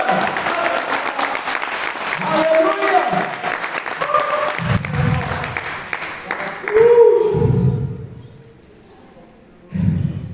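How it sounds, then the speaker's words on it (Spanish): Church congregation applauding the Lord during a worship service, a sustained wash of clapping with voices mixed in, swelling louder near the end before dropping off, then a short burst returns. "Dale una ofrenda de palmas al Señor."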